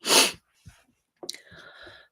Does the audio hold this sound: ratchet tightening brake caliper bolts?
no